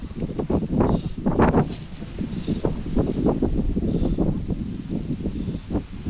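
Steady, heavy wind roars and buffets the microphone throughout at a beach campsite in Lobo, Batangas, with gusty low rumbling and no voices.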